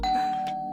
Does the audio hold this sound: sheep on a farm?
no